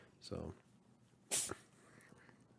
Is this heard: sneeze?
yes